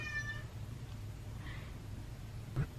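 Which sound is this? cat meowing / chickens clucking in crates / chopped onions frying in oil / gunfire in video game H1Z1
cat meowing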